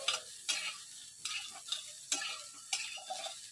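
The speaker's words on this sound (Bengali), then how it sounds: "কপিগুলো এখন একটু ভেজে নিচ্ছি লাল লাল করে" Cauliflower pieces frying in a pan until browned, a steady soft sizzle broken by several sharp scraping stirs at regular intervals, close and moderately quiet with no talking.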